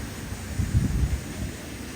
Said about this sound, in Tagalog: Malakas pa rin hangin mga idol.